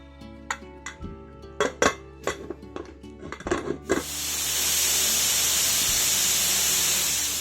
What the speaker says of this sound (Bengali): চলুন তাহলে গ্যাসের ওপরে এবারে কুকারটা বসাই।